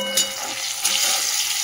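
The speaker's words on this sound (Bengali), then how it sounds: "দিয়ে এবারে বেগুনটা হালকা করে ভেজে নেব" Eggplant frying in oil with turmeric, a bright continuous sizzle with two bursts as pieces shift in the pan.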